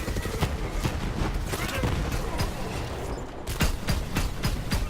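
Shotgun fire in Borderlands 3, rapid repeated sharp blasts in quick succession with a short pause, set within a busy game soundscape.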